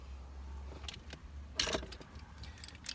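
A 21 mm steering wheel bolt on a 1997–2001 Jeep Cherokee XJ being tightened: quiet metallic clinks and tool rattles, with one brief louder clatter partway through, close by in a quiet space.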